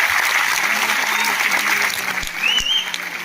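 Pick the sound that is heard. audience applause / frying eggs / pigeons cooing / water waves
audience applause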